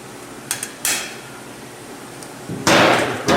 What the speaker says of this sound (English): Now we're going to just break this piece off.